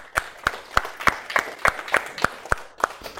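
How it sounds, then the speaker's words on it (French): An audience in a lecture room claps in unison, about ten sharp, evenly spaced claps at a slow steady beat with quiet gaps between them. "On applaudit."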